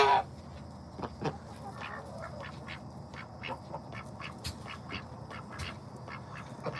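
Turkeys puffing up their chests at backyard feeding time among chickens, ducks and geese, giving repeated short low calls and quacks in a loose rhythm at moderate distance, with no talk.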